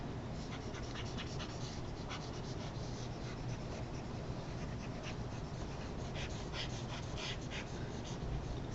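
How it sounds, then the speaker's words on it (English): Eraser rubbing writing off a board, heard as a continuous scratchy swishing with repeated strokes under a constant noisy background, no voices. "Let's erase that."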